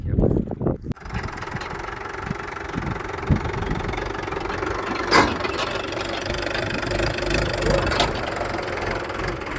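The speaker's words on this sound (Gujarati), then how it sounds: "બોર ઉતાર્યા હતા અને ફૂંકણી માટે ટ્રેક્ટર આવી રહ્યો છે." A tractor engine runs steadily with a knocking idle as it arrives at a village farm to blow out a bore well, a continuous, moderately loud mechanical drone that holds from the first second to the end.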